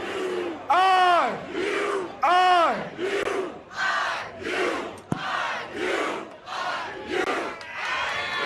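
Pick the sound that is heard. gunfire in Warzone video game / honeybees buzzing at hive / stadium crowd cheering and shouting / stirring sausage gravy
stadium crowd cheering and shouting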